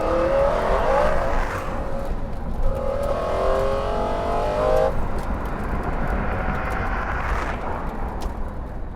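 A road-tested sports car accelerates hard through the gears, engine note climbing in repeated surges with brief shifts between, loud and close with no voices.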